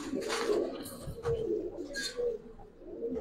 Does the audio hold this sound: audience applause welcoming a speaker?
no